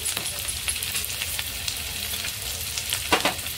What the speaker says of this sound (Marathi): याला छान तेलावर आपण परतून घेऊया